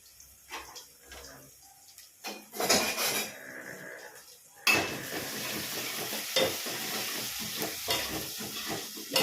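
Onions sauté in a pan for kuzhambu with a soft sizzle broken by scraping stirs and clatters of a spatula against metal, louder bursts coming near the middle and continuing to the end, with no talking.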